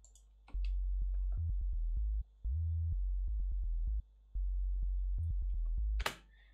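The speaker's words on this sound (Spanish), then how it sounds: "Este bajo, sin lo que tiene, sin los efectos, suena así." Dry synth sub bass built from a slightly detuned sine wave, with no effects, playing a run of deep pulsing notes separated by short gaps, with faint ticks on each note and a sharp click at the end.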